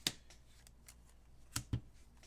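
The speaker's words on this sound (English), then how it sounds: "And then I'm going to shuffle" Pokémon cards are shuffled in a card video game during live play, giving a few faint, soft riffling clicks and taps against quiet background noise.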